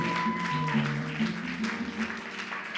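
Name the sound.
applause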